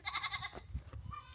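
Goats on a small farm paddock bleat twice in quick succession, close and fairly loud, with a short wavering cry followed by softer rustling and a brief second call.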